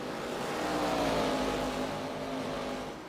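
A race car engine in a sim racing game at Bristol Motor Speedway holds a steady, close, full-throated drone that swells slightly mid-lap and then eases, with no talking over it.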